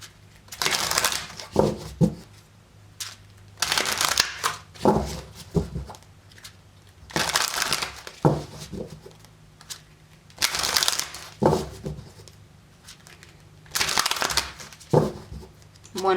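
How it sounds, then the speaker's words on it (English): Oracle cards shuffled by hand in a series of about six distinct rustling, riffling bursts with short pauses between, close and fairly loud. "One more shuffle."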